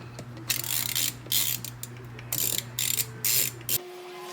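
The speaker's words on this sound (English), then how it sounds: "So now we want to go ahead and snap the door together." The plastic clips of a BMW door trim panel snap into the door, a close series of short, sharp clicking and cracking bursts over a faint hum, ending in quiet.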